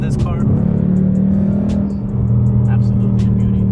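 A 2015 Ford Mustang GT with the Performance Package revs its V8 engine, a loud steady low rumble that rises and holds throughout, with people talking over it.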